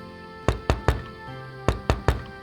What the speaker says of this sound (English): she finally decided to knock on the door